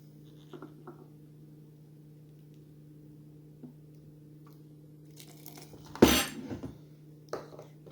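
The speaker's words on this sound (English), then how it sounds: "And give that a little stir." A spoon stirs dehydrated rice and red lentil dal with boiling water in a camping container, faint clinks and scrapes, then a louder clatter and rattle against a quiet steady hum.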